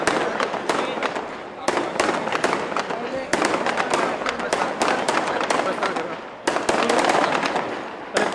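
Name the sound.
firecrackers exploding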